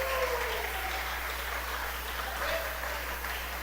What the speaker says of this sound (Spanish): Denle un aplauso a Nepo, por favor.